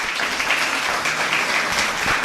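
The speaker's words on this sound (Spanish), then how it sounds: "Un aplauso, por favor." Applause from a church congregation welcoming a speaker: a steady wash of many hands clapping at moderate distance, continuous and even for the whole moment.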